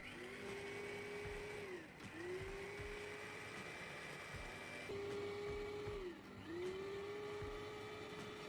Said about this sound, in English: the blender works much more efficiently when the foam is already partially broken down.